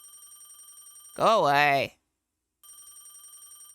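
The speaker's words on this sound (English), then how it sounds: "A ringing sound through the darkness, echoing through the soulless house." An old-style telephone bell rings in a horror video game inside a dark, empty house, with steady repeating trills that break off for a loud shouted voice line, go silent briefly, then resume.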